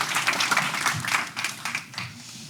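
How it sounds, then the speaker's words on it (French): Conference audience at a local marketing show applauding a guest invited on stage, a dense burst of clapping that peaks early and then thins out over about two seconds. "On peut l'applaudir."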